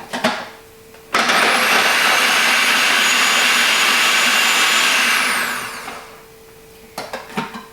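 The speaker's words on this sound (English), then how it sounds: "you're going to start off by taking your 2 cloves of garlic into the food processor and blending them" A food processor blends two garlic cloves, starting abruptly with a loud, steady whirring roar that holds for several seconds, then winds down and stops, followed by a few clattering knocks.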